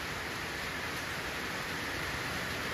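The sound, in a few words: rain falling on leaves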